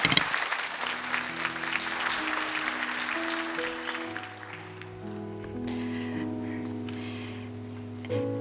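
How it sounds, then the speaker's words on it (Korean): A church congregation gives a warm round of applause that fades over several seconds, while soft sustained organ or keyboard chords swell underneath. "우리 큰 박수로 우리 자매를 좀 초대해 주시면 감사하겠습니다"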